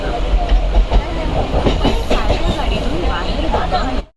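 A crowded Mumbai suburban train runs along the line with a loud rumbling clatter and rhythmic wheel knocks. Voices murmur underneath, and the sound cuts off abruptly at the end.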